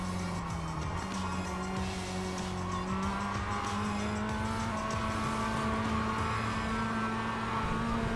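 Mazda MX-5 race car in iRacing sliding off the track, a steady engine drone with tire squeal and skidding running throughout at constant loudness, with no voices.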